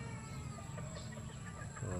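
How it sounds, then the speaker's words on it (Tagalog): Soft, scattered clucking from a few chickens over a low, steady background rumble, fairly faint and brief. "Mga chicken."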